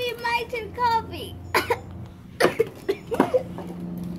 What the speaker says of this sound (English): Then it'll be my turn coughing.